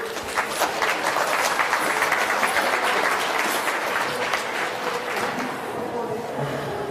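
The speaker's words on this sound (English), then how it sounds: "Give him a round of applause" A crowd's round of applause for a man, steady dense clapping filling the whole stretch at a constant level with a faint murmur of voices underneath.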